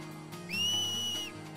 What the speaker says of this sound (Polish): To się nazywa gwizdanie.